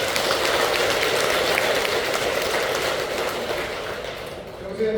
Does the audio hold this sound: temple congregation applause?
yes